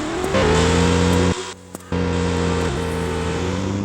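A loud car engine in the video game Dogan Simulator 2 drones and revs, briefly cutting out before roaring back, with a synthetic, steady tone.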